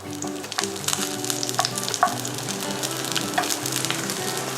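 Garlic sizzling gently in oil in a pan, cooked for aroma rather than deep-fried: a dense, loud, continuous crackling hiss with scattered sharper pops over a steady tonal background hum.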